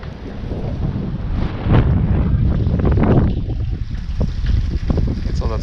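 Strong wind buffets the microphone outdoors at a public pond during bass fishing, a loud, steady low rumble with gusts swelling and easing throughout, and no one speaking.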